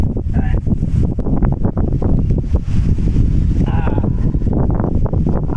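Strong wind gusts outdoors, heard while sitting in the shade of a tree near a hut, roar loud and steady against the microphone with a faint voice passing under the rush.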